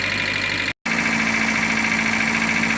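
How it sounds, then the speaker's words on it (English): A badly maintained Hyundai Tiburon Beta engine, run without proper oil, idles with rod knock: a loud, close, steady mechanical drone with a rapid knocking underneath, broken by one brief dropout. "Curious how long rod knock will last on a beta."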